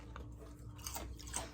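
Crunchy sugar-coated Chinese cookie shell being chewed up close, a few sharp crisp crunches spaced irregularly over a quiet background.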